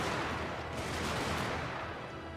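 A massed musket volley from Total War: Shogun 2, a dense, roaring crackle of gunfire sustained loudly for a couple of seconds without pause.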